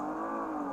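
A 2019 Audi RS5 pulling hard off the line on launch control on a wet surface, its engine a loud, steady close-up roar of strong acceleration without any talking.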